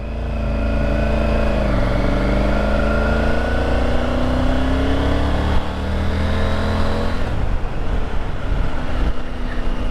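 Motorcycle engine under load on a country ride in the Ozarks, the rider feathering the clutch, a loud, continuous drone whose pitch rises and falls gently before breaking into rougher rumble near the end.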